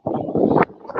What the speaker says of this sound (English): I didn't know it was going to be this windy whenever I started